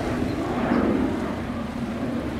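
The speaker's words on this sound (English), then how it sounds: "Yeah, it's a fighter jet just overhead." F-15 Eagle fighter jet passing overhead above Singapore's southern islands, a steady broad roar with wind buffeting the microphone, loud and continuous with no talking.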